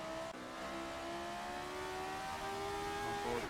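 Formula 1 car engine in a racing game at Monaco, a loud sustained high-revving whine climbing and shifting pitch through gears, continuous and close, with no talking.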